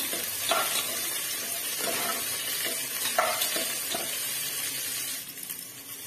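Onions and dried red chillies sauté in a pan with continuous close sizzling, broken by several soft scraping stirs of a spoon; no voices are heard.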